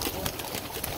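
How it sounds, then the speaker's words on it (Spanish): Pigeons cooing in an old-town park, soft low coos and flutters mixed with busy outdoor ambience and brief bursts of nearby activity. "miren cómo están las palomas ahí"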